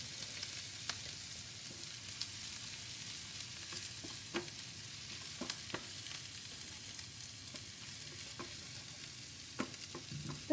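Food roasts in a pan until golden, a steady soft sizzle with occasional stirring scrapes and light clicks, close and fairly quiet with no talking.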